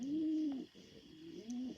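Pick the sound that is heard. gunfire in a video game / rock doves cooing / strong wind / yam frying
rock doves cooing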